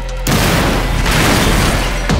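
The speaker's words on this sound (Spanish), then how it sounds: "Explosiones grandes." A big explosion in the crime action video game Watch Dogs bursts loud and close, a dense roaring rumble that fills the whole span with a second surge near the end.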